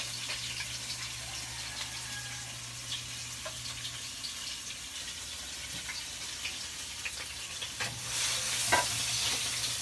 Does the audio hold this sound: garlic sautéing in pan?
yes